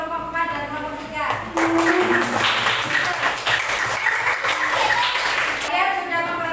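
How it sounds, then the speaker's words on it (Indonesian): Classroom applause for presenting student groups during an Islamic education lesson in Samarinda, a steady broadband patter of many hands lasting several seconds with a teacher's voice speaking over it. "tepuk tangan untuk kelompok 4 dan kelompok 3"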